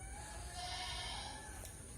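Goats bleat faintly in a large goat farm shed with slatted flooring, a soft, distant wavering cry over a steady background hum with no talking.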